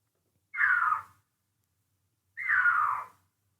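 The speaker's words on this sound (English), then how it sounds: "I don't think I've ever heard a mountain lion scream" Two separate scream-like cries of a mountain lion, each lasting about two thirds of a second with a drawn-out, wavering, almost meowing quality, heard alone and close against silence.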